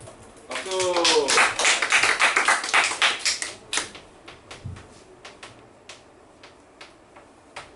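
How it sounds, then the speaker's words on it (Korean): A high school class in Korea bursts into quick, rhythmic hand clapping during a math lesson, loud and close for a few seconds before thinning out into scattered claps. "자, 박수. 박수."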